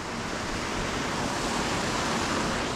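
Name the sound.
waterfalls at a creek confluence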